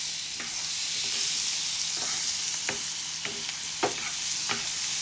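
Garlic frying in butter and oil, a steady close sizzle with spatter and crackle, broken by several distinct clicks and scrapes of stirring spread through the clip.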